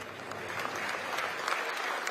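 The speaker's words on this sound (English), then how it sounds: "you'll definitely be able to hear the clapping of the audience here" A Conservative Party conference audience in a crowded hall claps steadily as the Cabinet arrives, a continuous faint patter of many hands at a distance with no speech over it.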